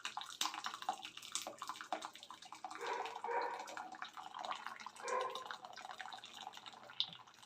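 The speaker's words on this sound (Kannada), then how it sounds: "ಈ ರೀತಿ ಪೂರ್ಣ ಪ್ರಮಾಣದಲ್ಲಿ ಎಷ್ಟು ನೀರಿದೆಯೋ ಅಷ್ಟು ಪೂರ್ತಿ ನೀವು ನೀರನ್ನು ಶೋಧಿಸ್ಕೊಬೇಕಾಗುತ್ತೆ" Cooking water is strained off boiled greens in a kitchen, a steady close trickle and splash of liquid draining through, with a few small drips and clinks and no talking.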